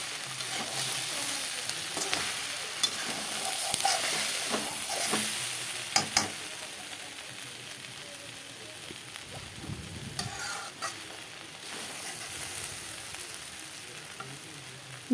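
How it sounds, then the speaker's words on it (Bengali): Mixed vegetables and soybean chunks fry in a pan with a steady broadband sizzle, broken by scrapes and taps of stirring and a couple of louder clatters near the middle, heard alone without voices. "ভাজাটা মোটামুটি লাল হয়ে গেল। আরও কিছু সময় ভেজে নেব বন্ধুরা।"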